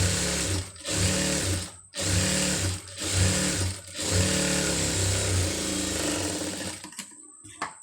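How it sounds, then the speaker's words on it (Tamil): A sewing machine stitches a seam in cloth, its motor whirring in steady rapid runs broken by short pauses before a longer final run trails off, close and clear, with no talk. "அதை நேர் இதில் வந்து தையல் ஓட்டிடுங்க."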